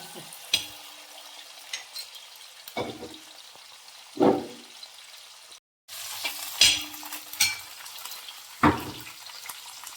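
Green chilies, four or five of them, sizzle and crackle in hot oil for a Kerala fish pickle, with a steady frying hiss broken by several sharp bursts as they are stirred in the pan; no talking.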